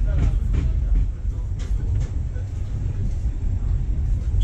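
A train on the Budapest-Keleti to Sopron line in Hungary rumbles steadily along the rails, with a few sharp clanks near the start over a continuous low roar.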